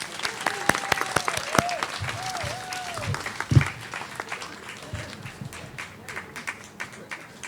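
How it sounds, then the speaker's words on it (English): An outdoor crowd at a historical marker dedication claps in scattered, uneven applause, with individual sharp claps standing out near the listener, some voices and a brief whistle-like tone mixed in. "let's have a round of applause for my community"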